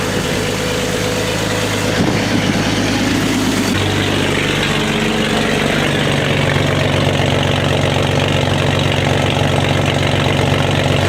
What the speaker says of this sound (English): Step out here and let it idle out a little bit before I get under it and listen.